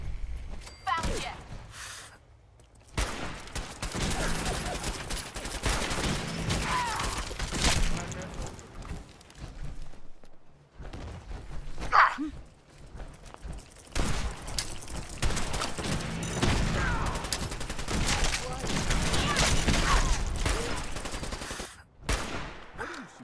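Fallout 4 gunfire sounds as bursts of rapid automatic shooting and scattered single shots, loud and dense across most of the stretch with brief pauses, while voices speak over the action.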